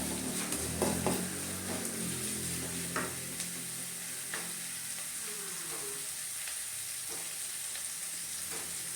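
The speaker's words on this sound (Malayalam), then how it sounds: "ഇതൊന്ന് നല്ല രീതിയിലൊന്ന് മൂപ്പിച്ചെടുക്കാം" Onions frying in a pan with salt for a Chayamansa (Mexican spinach) thoran, a steady sizzle broken by a few scraping stirs near the start, moderately quiet and close, with no voices.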